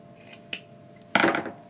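Scissors trim a piece of ribbon for a St. Patrick's Day clover wreath, with two sharp, close snips, a light one followed by a longer, louder cut, in an otherwise quiet room.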